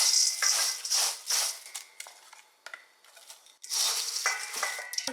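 Nine cups of Rice Chex cereal being stirred with a coating, crisp dry rustling and scraping in bursts as the pieces tumble, with occasional clinks of the utensil against the bowl.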